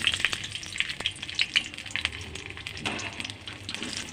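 Potatoes frying in hot oil in a wok give a steady, close sizzle with crackling pops and occasional stirring clatter throughout.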